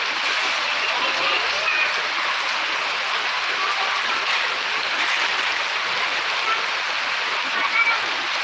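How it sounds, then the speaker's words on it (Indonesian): Rain pours down steadily outside a house where a tent has been set up for an event, a dense, even hiss with faint voices talking in the background. "hujan terus"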